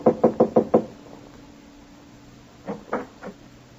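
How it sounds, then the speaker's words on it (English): Knuckles rap a panelled door at the end of a carpeted apartment hallway: five quick, loud knocks, a pause, then three softer knocks. "Rap on the panel door."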